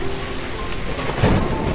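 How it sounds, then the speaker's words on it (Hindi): Heavy rain pouring steadily outside a house with a balcony, with a low thunder rumble swelling near the end; a dense, loud, continuous hiss with no voices. "इससे पहले कि वो कुछ लिखना शुरू करती, तेज़ बारिश शुरू हो चुकी थी।"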